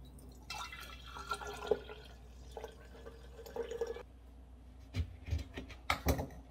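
Homemade ginger water being strained in a kitchen, faint irregular drips and trickles of liquid with soft clinks, scattered over several seconds and fairly quiet.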